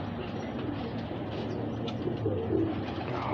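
A pigeon coos softly and repeatedly against a steady hum of loft or outdoor background noise, fairly close, with no talking.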